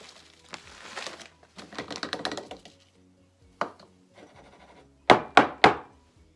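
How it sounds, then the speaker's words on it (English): A glass jar of coconut is knocked against a kitchen countertop to settle it. Scattered rattling shuffles come first, followed by three sharp, close thuds in quick succession. "This is where I'm going to beat it down on the countertop so that it falls down and I can fill it up again"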